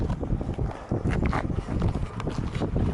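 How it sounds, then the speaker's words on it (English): Steady wind gusting outdoors near a fenced moose enclosure, a broad rushing roar buffeting the microphone throughout with a few brief dips. "A little windy out here."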